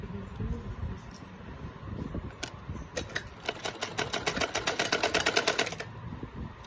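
A sewing machine stitches a salwar with a rapid, even run of needle strokes in the middle of the clip. The machine is close and loud, and short bursts come before it against a low background hum.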